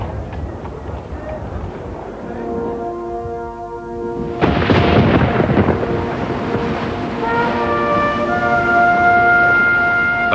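A heavy thunderstorm during the Carpathia's arrival past the Statue of Liberty, with a loud sudden thunder crack midway that rolls on beneath sustained musical tones and a dark rumbling backdrop.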